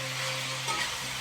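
Shimla mirchi (capsicum) frying in a pan, a steady close sizzle with a faint hum beneath and a slight stir near the end, no voices.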